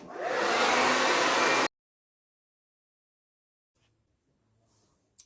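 A hair dryer roars loudly and close for under two seconds while drying a curly human hair topper, then cuts off abruptly, leaving near silence with a faint murmur toward the end.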